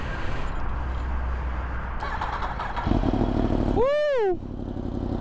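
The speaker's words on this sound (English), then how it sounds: "Let's get a little start on this Yamaha R1 with this beautiful, beautiful full titanium Akrapovic exhaust" A Yamaha R1 sport bike fitted with a full titanium Akrapovic exhaust fires up and settles into a loud, steady engine rumble close by, with an excited shout breaking in near the end.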